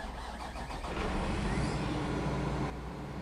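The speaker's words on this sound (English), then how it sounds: "Let's start up our tractor." A tractor engine in Farming Simulator 2013 cranks and catches, rising into a steady loud mechanical rumble that drops to idle near the end.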